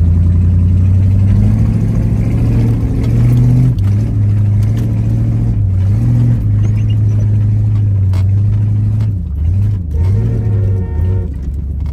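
A car engine revs hard on a snowy road, its loud, steady drone rising and dipping as the throttle is pressed and eased, with no talk over it.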